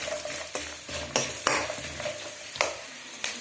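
Puffed rice (mandakki) being stirred and heated in a pan: regular scraping strokes of a utensil on the pan at an even rhythm, with a faint dry sizzle and rustle between strokes.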